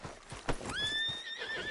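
A horse in the video game Days Gone clip-clops with a few soft hoof steps, then lets out a long, clear whinny that rises and slowly trails off, close and alone.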